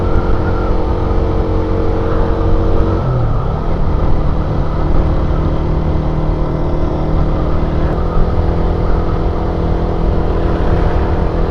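A steady Raider 150 carbureted motorcycle engine drones, with a clear pitch shift as the motor revs up, continuous and fairly close, without any voices.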